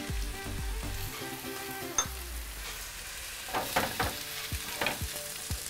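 Potatoes sauté in hot olive oil with salt and curry leaves, a steady sizzle and frying crackle broken by a few sharp clicks and scrapes of stirring, close and moderately loud with no talking.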